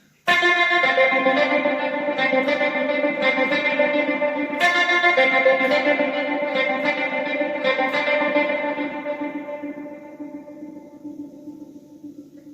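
Electric guitar chords chopped by the slicer effect of a Boss GT-100, pulsing on and off in a steady choppy pattern, loud and reverberant, then fading out toward the end.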